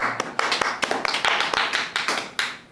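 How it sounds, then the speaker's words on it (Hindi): A small group claps steadily for a few seconds, sharp overlapping hand claps in quick rhythm, fairly close. "एक बार जोरदार तालियां।"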